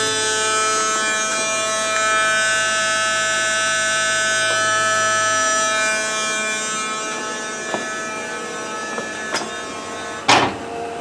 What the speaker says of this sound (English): So let's fire it up, and we'll see if we have any leaks at the pump first of all